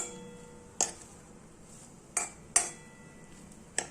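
Grated coconut roasted over low heat in a pan for a spicy Maharashtrian saar, with four sharp, quiet metallic clinks of a spatula against the pan spaced apart over a soft background.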